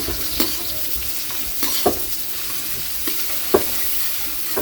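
Garlic and onion fry and get stirred in a pan for pork batchoy, a steady close sizzle broken by several sharp utensil scrapes and taps against the pan, no voices.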